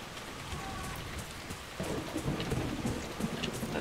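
Steady nighttime rain falls in the video game Dragon Age: Inquisition, with a low roll of thunder swelling in halfway through and rumbling on beneath the hiss of the downpour, no talking.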